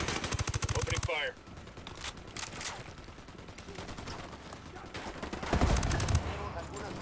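Rapid automatic gunfire from a military video game, a loud bright burst at the start and another near the end, with scattered shots and game sounds between them.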